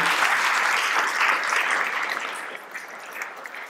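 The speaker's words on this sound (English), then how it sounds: "please, a big round of applause for Maxine Crump for her wonderful facilitating" An audience at a juke joints event claps steadily, a dense close round of applause that slowly thins out toward the end.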